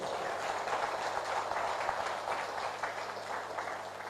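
Steady, dense applause from a seminar audience honoring Dr. Lim, filling the whole stretch at moderate loudness with no pauses.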